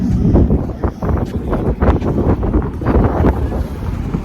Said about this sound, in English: Wind noise everywhere.